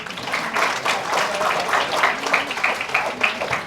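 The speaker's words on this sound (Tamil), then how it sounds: "இதுக்கே ஒரு கைத்தட்டு கொடுக்கலாமே" Comedy-show audience at a humour club breaking into applause, a dense, fairly close spread of clapping that carries on evenly throughout.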